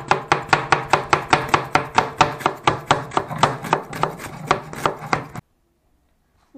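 A knife chops onions on a board in a steady, rapid rhythm of about twenty crisp close strokes, then stops abruptly into silence.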